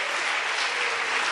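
A brief burst of applause from a church congregation during a pastor's sermon, many hands clapping in an even, continuous wash that holds at a moderate level.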